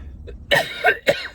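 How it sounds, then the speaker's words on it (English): A few sharp coughs in quick succession from a wrestling commentator, close to the listener, with a brief faint catch before them and no talking. "I don't know why I'm coughing now all of a sudden"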